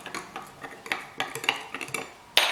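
A spoon clinks and scrapes repeatedly against a glass while a breakfast drink is stirred, an irregular series of close, bright taps ending in one louder ring, with no talking.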